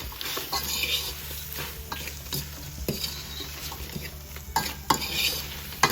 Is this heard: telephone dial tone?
no